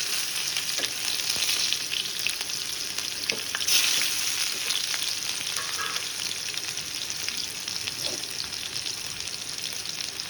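Garlic sizzles steadily in hot oil in a pan for an okra fry, a continuous close crackle with occasional stirring and no talk.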